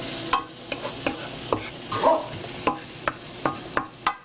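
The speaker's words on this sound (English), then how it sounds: "Now our potatoes are still cooking" Potatoes sauté in a pan for chicken curry, with a low sizzle under a series of about a dozen regular scraping stirs of a spoon against the pan, close and clear.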